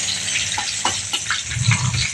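Whole spices such as cinnamon pieces, green chillies and bay leaves frying in oil over low heat, a steady close sizzle with a few soft scrapes of stirring and a louder, denser burst toward the end.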